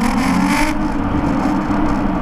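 A car with a Nissan VQ V6 engine accelerating hard in first gear through a tunnel, a loud, steady engine roar with reverberant rumble that holds throughout, a brighter whine fading partway through.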